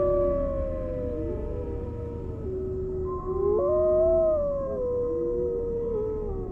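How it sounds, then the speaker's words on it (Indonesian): A dog howls at night, a long wavering call that rises and falls in pitch, with overlapping howls from more than one animal drifting in from a distance over a low, steady background hum. "Tiba-tiba terdengar suara anjing melolong di kejauhan"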